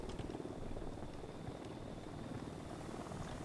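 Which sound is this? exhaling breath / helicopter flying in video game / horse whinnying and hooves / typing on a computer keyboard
helicopter flying in video game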